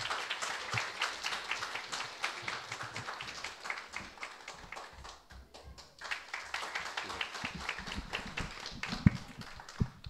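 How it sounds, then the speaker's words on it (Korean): An audience at a Christian school admissions briefing in Korea greets an arriving pastor with scattered, uneven clapping that swells and dips over ten seconds, with occasional footsteps or taps. "그러면 큰 박수로 모시겠습니다."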